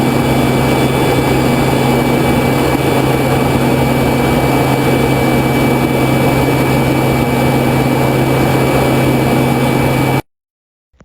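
Steady, loud jet engine roar from a U-2 spy plane cruising at 70,000 feet, a continuous droning hum with a constant tonal whine, running unbroken for about ten seconds before cutting abruptly to silence.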